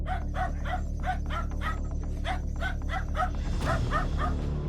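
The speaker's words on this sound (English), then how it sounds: "dogs seemingly barking at an intruder" Several dogs bark in quick, repeated bursts over a constant low background hum, heard at mid distance with a slightly tinny quality, with yips mixed in among the barks.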